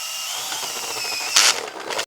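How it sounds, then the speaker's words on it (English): A MulWark M35 cobalt step drill bit with TiAlN coating whines steadily while drilling through, then gives a brief louder burst as it breaks through. "As we're through and drilling, we'll demonstrate going through."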